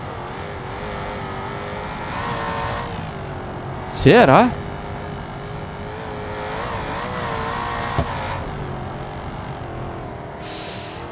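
A Mustang's engine drones steadily while driving in BeamNG.Drive, a mid-pitched hum that swells and dips with throttle changes, someone speaking briefly over it.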